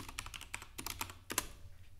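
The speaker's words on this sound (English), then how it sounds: "opening the command prompt and typing ipconfig" A computer keyboard being typed on as the ipconfig command is entered in a command prompt: a quick run of crisp, close key clicks in uneven bursts, with no other sounds.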